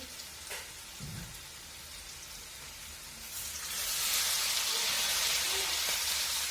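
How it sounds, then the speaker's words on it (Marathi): Spices and curry leaves hit hot oil for a homestyle dal tadka tempering, setting off a steady sizzling hiss that swells louder and brighter halfway through and holds at close range. "तर आता सगळे शेवटून टाकणार मी मसाले आणि मसाल्यामध्येच कढीपत्ता टाकणार आहे"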